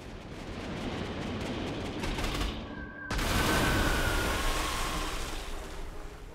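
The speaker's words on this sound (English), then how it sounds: "We can send the other one up here and bombard that." Artillery bombardment in the strategy game Panzer Corps 2 rumbles as dense, continuous booming gunfire with a brief dip near the midpoint before the barrage swells again, loud and unbroken.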